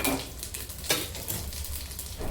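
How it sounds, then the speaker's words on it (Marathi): Cumin seeds and finely chopped green chillies crackle in hot ghee for jeera rice, a dense close sizzle with a sharp clatter near the start and a steady hiss after it. "तूप थोडं गरम झालं की ह्यात जिरे घालूया आपण 1 टेबलस्पून."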